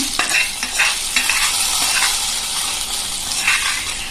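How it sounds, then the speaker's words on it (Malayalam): Curry leaves tempering in a hot pan for a Kerala-style nadan asthram, stirred steadily: a continuous bright sizzle with repeated scraping strokes, close and loud, no voices. "കറിവേപ്പില ഇട്ട് കൊടുത്ത് ഇനി നല്ലതുപോലെ ഒന്ന് ഇളക്കാം"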